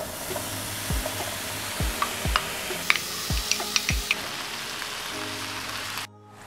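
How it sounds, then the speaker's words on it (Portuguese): Bacon frying in a very hot frying pan on a stove, a steady crackling sizzle with several dull thumps and clinks of pieces being dropped in, close and without talk, cutting off at the end. "Bem quente, podemos colocar o bacon para fritar."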